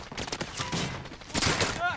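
Gunfire from the Call of Duty: Modern Warfare video game crackles in quick bursts, mixed with a player talking over the game audio.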